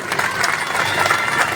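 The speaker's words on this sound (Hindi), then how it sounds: "जोर से तालियों के साथ स्वागत करें" Audience at a Christian Christmas gathering applauding loudly to welcome a guest, a steady dense wash of clapping with no breaks, close and full.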